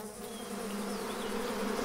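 Bees buzzing close by, a steady dense drone of many insects with no voices, holding level throughout.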